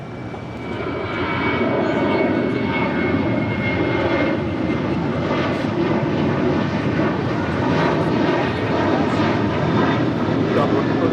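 An American Airlines jet takes off from runway 25 right at LAX, its engines building into a loud, sustained roar that holds steady throughout, with radio voices faintly beneath.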